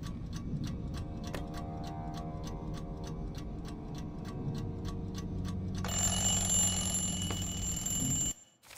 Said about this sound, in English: There's so many alarms in here.